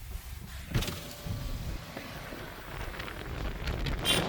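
Strong wind buffets the microphone on a mountain pass in Spiti on the way to Chandra Taal, a low rumbling gust with faint, uneven swells.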